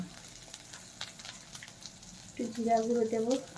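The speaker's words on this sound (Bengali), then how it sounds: "মশলাটা আমরা কষিয়ে নিচ্ছি" Spice paste frying in a pan for a jackfruit and prawn curry, a soft sizzle that swells louder near the end, with someone speaking over it.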